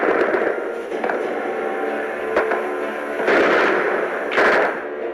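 Rifle shots crack out at Stalingrad in a rapid scattered series, several sharp reports over a few seconds amid noisy battlefield rumble.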